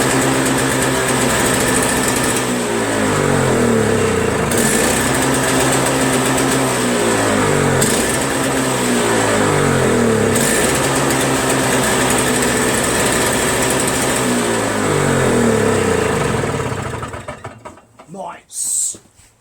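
A Toro Snow Commander 7HP R-Tek single-stage snowblower engine runs steadily and loudly up close with a buzzy, slightly pulsing drone for about seventeen seconds. It then cuts off, and a short voice follows.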